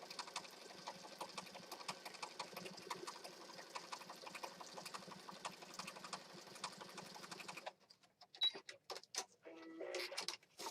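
A sewing machine stitches pocket journals in a quick, steady run of needle strokes for about eight seconds before stopping, followed by faint handling clicks and rustling.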